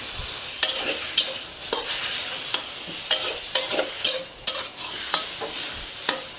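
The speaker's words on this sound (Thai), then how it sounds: "การจะเอาหมู3ชั้นค่ะ มาลวนก่อนนะคะ" Pork belly is stir-fried in a pan, with a soft sizzle underneath sharp, regular scrapes and clacks of a utensil against the pan, close and alone.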